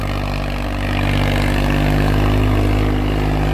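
A Swaraj 744 tractor engine runs steadily in a very wet field, a close, loud, continuous low drone with strong harmonics that swells slightly after the first second and holds without any talk.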